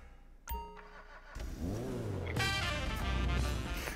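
A Grufti Stinger sports car in GTA 5 starting up with a sharp click and chime, then the engine catching and revving in rising, falling sweeps, fairly loud and close.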